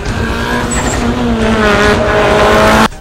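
Mitsubishi Evolution Puma Cup race car driving hard, a loud steady engine note with rising harmonics through the gears and faint tyre noise, running close and continuous until it cuts off abruptly near the end.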